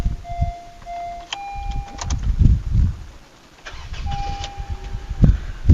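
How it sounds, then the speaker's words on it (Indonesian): A Honda Civic FB with a 1.8 engine is cranked and brought to life, with uneven bursts of engine noise and a settling idle, while faint beeping tones and bird calls sound in the background. "Tak nyalakan mesinnya dulu ya."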